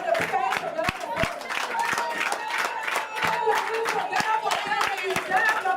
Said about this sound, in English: Can you stand to clap for them?